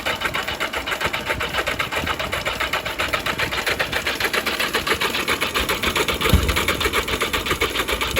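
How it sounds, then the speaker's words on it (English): A 1982 Yamaha Maxim XJ750 barn-find motorcycle cranks on its starter with a steady, fast mechanical whir and rhythmic pulsing, loud and close, running continuously throughout with no voices. "Started cranking it, she started kicking"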